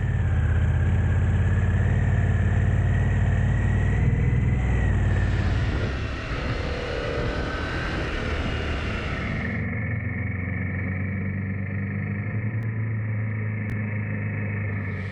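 Harley-Davidson Pan America motorcycle engine running during a wet, muddy ride in Wales, a steady droning engine with wind rush that shifts in pitch partway through, continuous and fairly loud.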